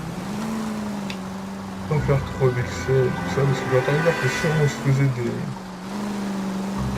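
A car engine hums steadily in L.A. Noire gameplay, running under someone talking in French almost throughout.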